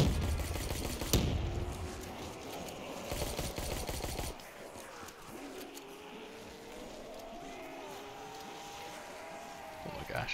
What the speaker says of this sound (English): Get a couple more grenades in there.